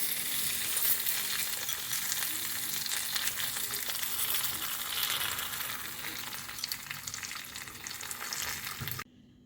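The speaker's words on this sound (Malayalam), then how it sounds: "നമ്മൾ എടുത്ത് വെച്ചിരുന്ന മുന്തിരിങ്ങ അതിലോട്ടിടാം." Pineapple pachadi in a pan gives off a continuous soft sizzle with stirring and scraping as raisins are added, fairly quiet and steady throughout, then cutting off abruptly at the end.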